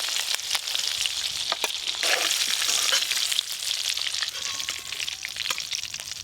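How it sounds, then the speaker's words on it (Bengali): Pieces of food frying in hot oil give a loud, dense sizzle with crackles and stirring clatter, steady and close-up the whole time with no voices. "এগুলো একবারে সব ভেজে নেবো"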